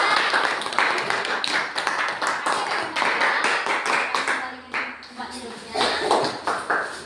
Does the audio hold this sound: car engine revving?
no